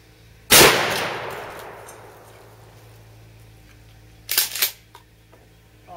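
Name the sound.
H&R pump-action shotgun firing double aught buckshot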